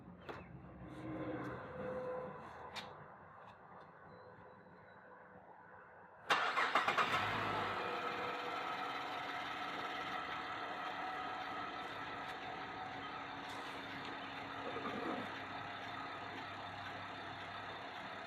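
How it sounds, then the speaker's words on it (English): A Cadillac CTS engine cranks and catches with a sudden loud burst, then settles into a steady, close idle that runs for over ten seconds, after a few quiet clicks and rustles. "Let's fire up the car."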